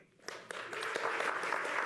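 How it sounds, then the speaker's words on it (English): Audience applause at a town hall event with the mayor, a crowd clapping steadily that swells after a brief lull and holds at a moderate, fairly distant level. "Big round of applause."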